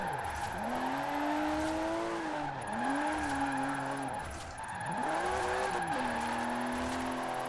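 A rear-biased SUV in the racing game Forza Horizon 4 revs hard as it accelerates through the gears in third, its engine note rising and dropping at each shift, loud and continuous.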